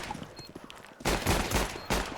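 Bursts of gunfire from Counter-Strike 2 during a competitive LAN match: faint scattered shots at first, then loud dense volleys crack out and a final burst follows.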